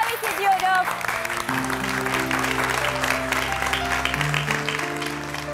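Studio audience applause welcoming a bride and her mother-in-law onto a Turkish TV show, sustained clapping mixed with music and some voices throughout.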